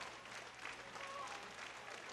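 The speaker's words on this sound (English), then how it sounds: "And the fans continue to clap." Steady crowd clapping fills a Dayton Sharks arena football game against Kentucky Xtreme, a dense, even wash of applause with a commentator's voice talking over it.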